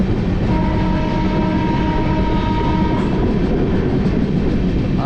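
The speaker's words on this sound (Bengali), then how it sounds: "একে 1 নম্বরে দিল আমাদের বিভূতি এক্সপ্রেস 12333 বর্ধমান জংশন ঢুকে গেল।" Vibhuti Express 12333, a train with LHB coaches, entering Bardhaman Junction, heard as a loud, steady rumble of rolling coaches with faint wheel clatter and a brief squeal near the end, with no voices.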